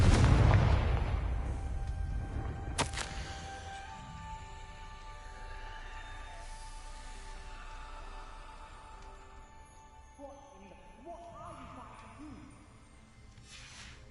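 Confringo spell blast in a Hogwarts video game, a loud booming burst at the start followed by a sharp crack and fading ringing, musical tones under the tail.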